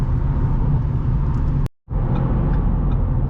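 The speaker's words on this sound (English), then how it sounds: "we're just cruising along at a modest 70 miles an hour on the freeway" Steady, loud road and engine drone inside a 2013 Ford Fusion Hybrid SE cruising on a California freeway at about 70 mph, with a brief dropout midway before the continuous rumble resumes.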